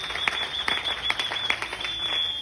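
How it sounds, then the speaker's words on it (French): Applause during an online affiliate-business presentation, with a handful of sharp, sparse claps over a steady high tone and background hiss, thin and somewhat distant. "On applaudit très fort pour ce bonus."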